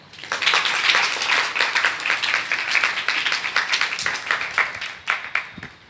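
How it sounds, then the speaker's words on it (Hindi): A crowd of schoolgirls at a girls' school applauds, dense steady clapping that swells quickly, holds for several seconds, then thins into scattered claps. "तालियां बजाओ।"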